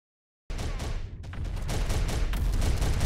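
Artillery fire in the video game Terminator: Dark Fate - Defiance: after a short silence, a dense, loud barrage of booming shots and crackling impacts rolls on without pause.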